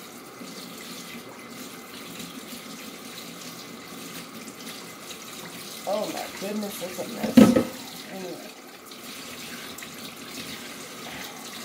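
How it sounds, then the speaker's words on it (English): A tap runs in a steady, faint stream of water beneath a person talking, with a brief clatter and splash partway through. "Excuse the water noise."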